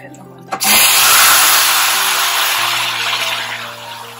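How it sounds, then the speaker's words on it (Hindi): Hot water is poured into roasting semolina in a pan while making halwa, giving a sudden loud hissing sizzle that churns on steadily and then slowly eases off. "अब हम इसमें पानी ऐड करेंगे।"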